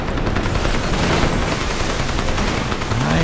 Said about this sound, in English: I am gonna get in cover here, because that is a machine gun.